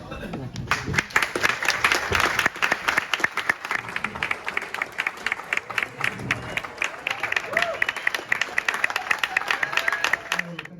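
Celtic supporters club members at an 80th anniversary function applaud the Scottish League Cup trophy, a roomful of steady clapping with some crowd murmur and voices mixed in.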